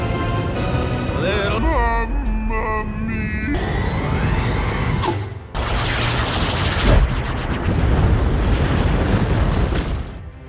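A loud cartoon explosion bursts in an animated Super Mario story, a broad roaring blast with a sharp boom that follows tonal effects, then sustained rumbling noise that swells near the end.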